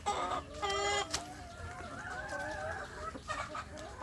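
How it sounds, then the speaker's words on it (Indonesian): Free-range native village chickens cluck and cackle close by, with one rising call standing out early and a rooster's crow mixed in amid a busy flock. "Jadi banyak sekali ayam kampung saya."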